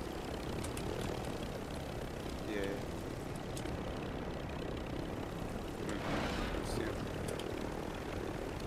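A helicopter's rotor and engine drone steadily in the background in Call of Duty: Warzone while people talk over it.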